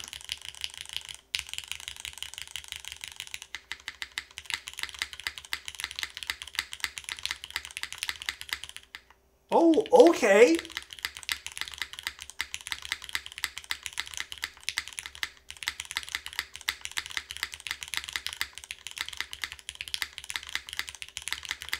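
Steady, rapid typing on an Albedo mechanical keyboard with lubed MX2A orange switches, an aluminum plate, O-ring mount and hot-swap PCB gives close, even clacking throughout, broken only by a short spoken remark midway.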